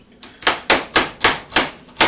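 Knife chopping an onion on a cutting board, seven crisp, evenly spaced cuts in a quick, steady rhythm, close and with no talking.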